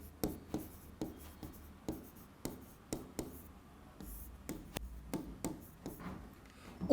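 Chalk or marker writing on a classroom board, a series of short sharp taps and strokes in an uneven rhythm, close and fairly quiet, with no talking.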